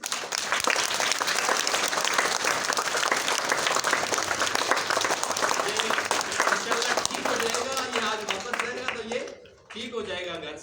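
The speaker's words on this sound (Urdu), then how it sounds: "تالی بجا دیں" Applause from an audience at a first aid and motivational talk, dense steady clapping for about nine seconds that tapers off, then a voice speaks.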